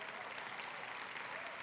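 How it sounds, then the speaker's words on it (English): Audience applause at an Indigenous assembly of a world religions gathering, a steady, fairly distant wash of clapping from a crowd that holds evenly for the short stretch with no talk. "How about a big round of applause for that wonderful plenary last night?"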